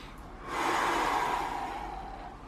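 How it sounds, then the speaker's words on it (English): A deep, slow exhale during a resting pause in a foam-rolling exercise for low back pain, one soft, breathy rush of air rising and fading close to the listener. "we're just resting there, breathing deep"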